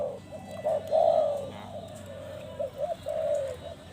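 A spotted dove kept as a decoy bird coos in a medium-pitched voice, giving a few soft, rounded coos in short phrases against a quiet outdoor background.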